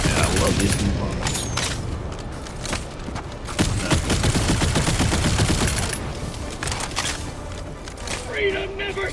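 Dense, continuous gunfire from weapons in the Helldivers 2 video game, rapid bursts and heavy booms running throughout alongside a steady wash of battle noise, with people talking over it.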